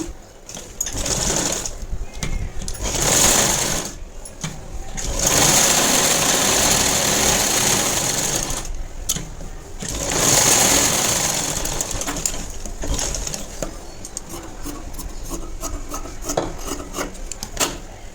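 A sewing machine stitching blouse fabric in single-stitch runs, its high whirring hum coming in several bursts with pauses between, close by, while someone talks over it.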